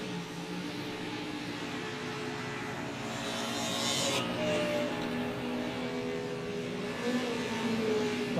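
Race car on the track at a hairpin turn during a club race meeting at Allerton, engine noise rising steadily as it approaches and passes, fairly loud and continuous with a louder swell near the end.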